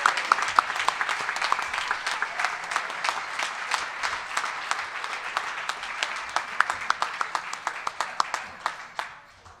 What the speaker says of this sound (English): Let's give these contestants a big round of applause.